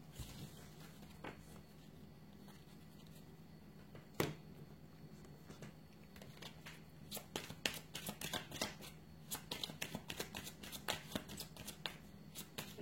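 Cards are shuffled and riffled in quick, crisp bursts, sparse at first and then clustering into rapid flurries of snapping in a quiet room.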